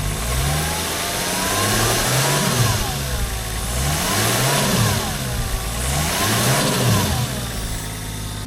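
A Toyota Chaser's engine runs at a steady idle around 1000 rpm, a continuous low mechanical hum with slight rhythmic wavering, close and alone with no talk.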